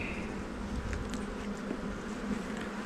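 Honey bees at an opened hive in a bee yard make a continuous, close buzz that holds steady throughout, with a few brief louder passes near the microphone.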